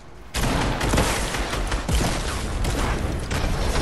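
Sustained gunfire in a Fortnite-style battle royale match, a dense continuous volley of shots starting abruptly and holding steady at moderate loudness, with no talking over it.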